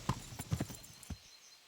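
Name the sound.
horse hooves clip-clopping, from video game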